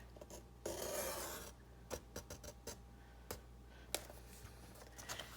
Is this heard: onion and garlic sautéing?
no